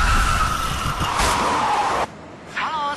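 A car skids under late, hard braking after aggressive fast driving, a long loud tire squeal that cuts off abruptly, followed by a brief quieter tonal sound near the end.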